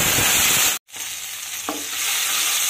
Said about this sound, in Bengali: টমেটোটা, নেড়ে চেড়ে হালকা ভেজে নিতে হবে